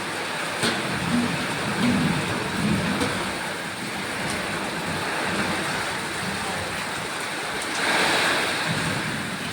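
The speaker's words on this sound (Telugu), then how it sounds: "చాలా గట్టిగా వచ్చింది వాన." Heavy rain roars down in a steady, dense wash of noise, with gusts of wind swelling now and then.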